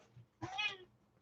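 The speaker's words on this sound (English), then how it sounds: "The cat wants to jump up here and join." A house cat gives a single drawn-out meow, fairly close and clear, rising briefly in a quiet indoor room before another sound starts at the very end.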